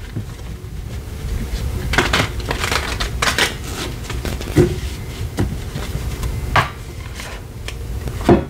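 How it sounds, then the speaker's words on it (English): Tarot cards being shuffled by hand, a close run of papery riffles and soft taps with brief louder snaps, the rhythm irregular and no talk. "Okay, one more shuffle."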